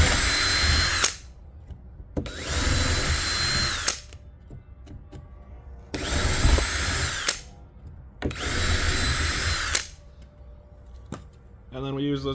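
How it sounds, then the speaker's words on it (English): A power drill drives screws down through a wooden tabletop in four long, loud bursts of whirring, separated by pauses, with a faint click at the end. "So I just screw down in all 4 holes."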